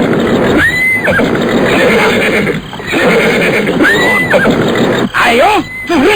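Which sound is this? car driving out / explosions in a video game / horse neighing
horse neighing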